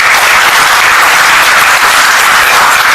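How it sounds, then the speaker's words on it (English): At a government event launching EV charging infrastructure, an audience applauds as the Minister of Heavy Industries and Steel is invited onto the dais, a loud, continuous, dense wash of clapping from a large crowd with no break. "With a big round of applause, may we invite him onto the dais."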